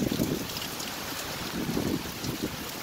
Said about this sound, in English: Bees were caught unaware of this rain that has moved in